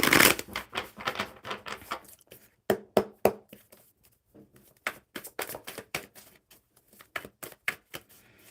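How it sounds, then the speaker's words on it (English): Playing cards being shuffled, heard as one loud riffle and then a run of crisp, uneven snapping bursts with short pauses between them, close to the mic and without speech. "One more good shuffle for Ilham"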